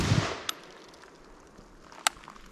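A shotgun fires buckshot at a target seven yards away: an opening broadband blast, then two sharp, distant-sounding cracks about a second and a half apart, with no talking.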